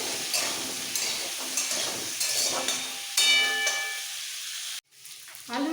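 Potatoes frying in oil in a pan with a little turmeric: a continuous close hissing sizzle with occasional stirring scrapes, which cuts off abruptly near the end before a brief clatter resumes.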